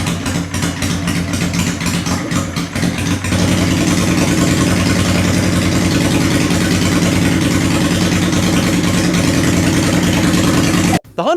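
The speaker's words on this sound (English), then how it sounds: "So now let's bring this idle back up to the proper speed." A Honda engine idles steadily and loudly after its idle speed is raised. A faster ticking rhythm at the start gives way to an even, constant drone.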